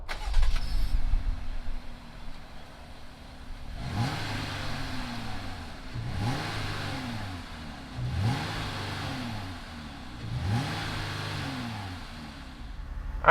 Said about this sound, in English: fire this Pentastar V6 up and see what it sounds like